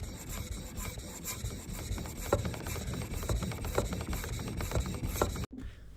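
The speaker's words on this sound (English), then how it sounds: "focusing more of my sharpening at the base of the knife" A chipped yanagiba, a Japanese single-bevel knife, is stroked back and forth on a whetstone, giving repeated gritty rasping passes at an even pace, close and moderately loud, with a faint hum underneath.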